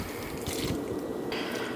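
Orange juice poured into homemade Thanksgiving sausage mixture makes a steady, soft liquid splashing and trickling, heard close and alone.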